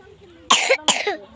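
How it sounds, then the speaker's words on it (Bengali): A small child coughs twice in quick succession, close and fairly loud, after a quiet moment with faint background murmur. "আচ্ছা তোমার তো কাশি হয়ে গেছে।"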